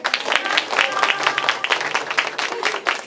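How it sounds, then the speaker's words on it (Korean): An audience claps at the opening of a talk show, a lively burst of many hands clapping at moderate volume, with a few voices mixed in. "시작부터 박수를 많이 치죠?"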